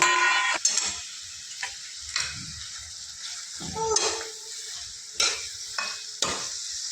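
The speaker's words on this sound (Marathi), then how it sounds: "आता त्यामध्ये मटण टाकून घेऊया" Village-style goat mutton added to an oily masala gravy and stirred in the pan, with close scraping strokes and clanks over a light sizzle, irregular and alone without speech.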